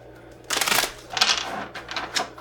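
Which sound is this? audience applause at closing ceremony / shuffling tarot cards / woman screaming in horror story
shuffling tarot cards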